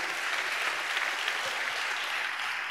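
A church congregation claps steadily in praise to God, a dense, continuous wash of applause filling the hall with no pauses.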